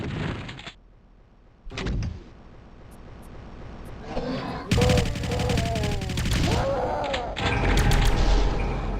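Gunfire in the Doom mod Dead Sea Scrolls: sharp game shots and rapid bursts of fire with clanking, door-like mechanical sounds in between, loud and busy toward the end after a quieter opening.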